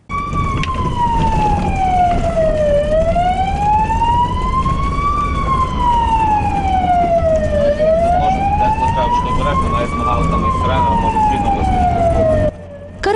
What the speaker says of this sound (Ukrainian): Рота екстреної медичної допомоги виїжджає на черговий виклик традиційно з мигалками та сиреною